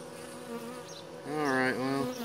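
Honey bees buzzing close by at a new hive, a steady droning hum that swells louder as a bee passes near the microphone, with a brief dip in pitch before settling again.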